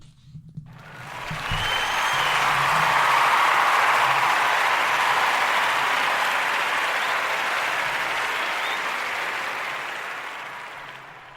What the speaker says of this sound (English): Hit that applause button for yourself.